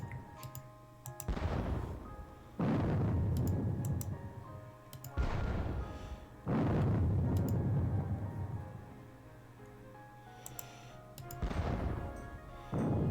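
Artillery booms from a Gettysburg war game come as four heavy blasts, each rumbling and then decaying over a couple of seconds, with faint ticking clicks between them and no talking.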